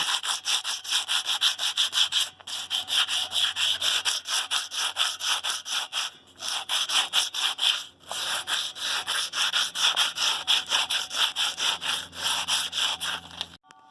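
Rough sandpaper scrubbing a rusty wheel rim from a 1952 military deuce-and-a-half truck, close and fairly loud rhythmic rasping strokes in long repeated bursts with brief pauses between them.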